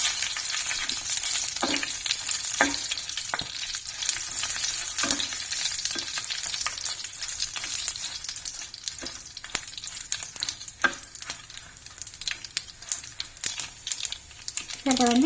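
Fenugreek, mustard seeds and dried red chillies frying in hot oil, a dense crackling sizzle dotted with sharp pops and stirring scrapes, a voice talking over it.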